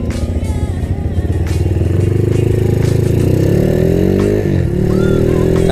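A Honda Tiger motorcycle rides along on a sunny afternoon, its engine droning loud and close with a steady rise in pitch as it accelerates, a brief dip near the end, and wind rush over it.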